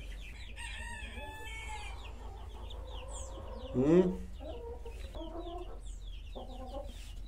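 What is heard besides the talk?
hen clucking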